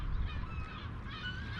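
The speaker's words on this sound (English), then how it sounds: "I love seagulls, I do." Seagulls call at the seaside near a river slipway, giving a short stretch of faint, distant honking cries over a low background rumble.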